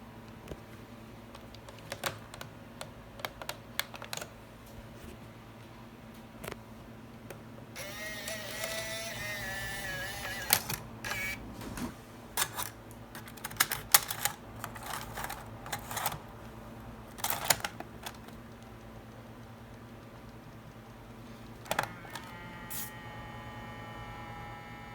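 A Sony DCR-TRV103 camcorder's tape mechanism strains and jams as it tries to close, giving a series of whirring, clicking mechanical noises with bursts of grinding motor sound, close up, with no talking.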